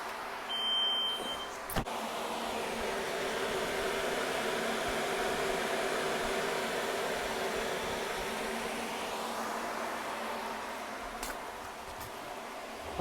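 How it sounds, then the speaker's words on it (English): Electric radiator fans on an Audi A4 B5 run with a steady whooshing drone, fairly constant throughout with a couple of faint clicks and a brief beep near the start. "Now the fans are on."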